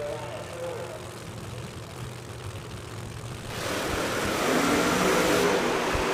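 Pro Mod drag race cars, including a nitrous Camaro and a Mustang, roar down the track in a steady wash of engine noise that swells louder halfway through and carries a broadcast commentator's voice over it.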